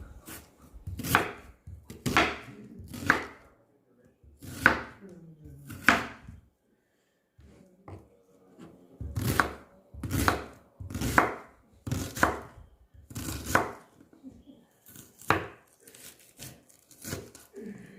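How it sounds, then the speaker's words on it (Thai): A knife dicing food into cubes on a cutting board, sharp knocks in uneven bursts with brief pauses, close and clear. "หั่นเป็นสี่เหลี่ยมแบบนี้นะคะ เห็นไหม"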